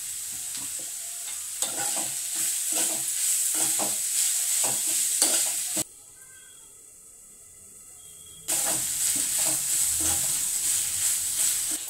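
Banana flower and onions stir-fried in a pan, with a loud steady sizzle and scraping stirs, broken by a few seconds of quieter hiss before the frying resumes.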